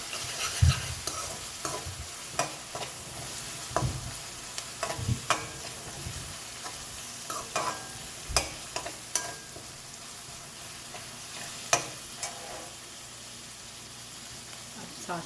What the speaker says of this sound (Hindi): प्याज सोटे हो गए हैं। लहसुन अदरक का पेस्ट